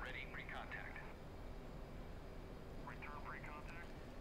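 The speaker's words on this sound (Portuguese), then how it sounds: "Olha o avião tanque aí. Ou melhor, o barulho dele, né?" Tanker aircraft engine noise during night aerial refueling in the DCS F/A-18C flight simulator, a steady low droning rumble throughout, with brief radio-style voice transmissions over it.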